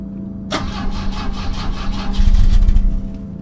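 A car engine cranks over and over without catching, a loud rhythmic starter churn that grows heavier toward the end, with an old-petrol fuel problem keeping it from firing.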